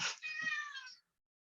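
A cat gives a single drawn-out meow, fairly faint and alone, fading into silence.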